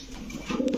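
Grizzle Lahori pigeons cooing at close range, a soft low burbling coo swelling near the end of a brief moment over faint background noise.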